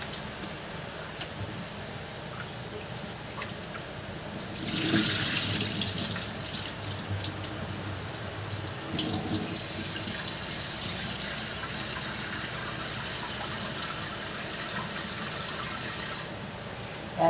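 A kitchen tap runs hard into a pot of mung beans, a steady close gush that swells louder midway as the flow hits the water, with no talk.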